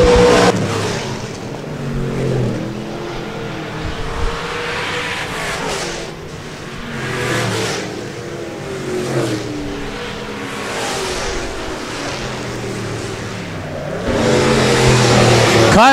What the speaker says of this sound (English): Fourth and final heat race for the USRA Stock Cars presented by Precision Auto Body